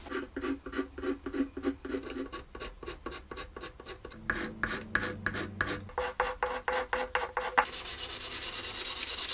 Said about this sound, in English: I'm going to use a scraper to remove the varnish that I don't want.